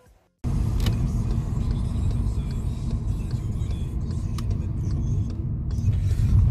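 A Hobbytech BX8SL radio-controlled car driving hard through dirty, wet conditions and a large puddle, its motor and rolling rumble starting abruptly and holding loud and steady, with scattered clicks and knocks.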